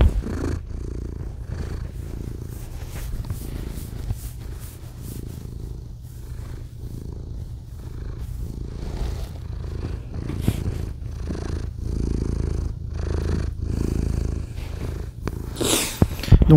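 Patapon the cat purring close up, a steady low rumbling purr that runs continuously with slight swells, alone with no talking, ending in a brief rustle.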